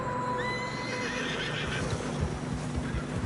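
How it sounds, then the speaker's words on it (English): A horse whinnies in a snowy mountain pass in Red Dead Redemption 2, a clear neigh rising over steady wind and hoof noise, close and fairly loud with no talk. "Horses are struggling."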